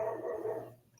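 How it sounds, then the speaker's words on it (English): A neighbour's dog barks outdoors next door, one short muffled bark heard faintly from a distance over a low hum, with no talk. "Wish that dog shut up out there"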